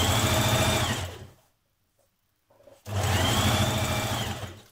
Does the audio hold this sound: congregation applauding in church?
no